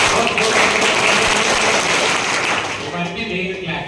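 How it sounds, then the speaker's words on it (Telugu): Students in a school hall clap together in a steady, dense round of applause that holds at full level for nearly four seconds, then thins slightly toward the end. "ఇవన్నీ మీకు క్లాప్స్."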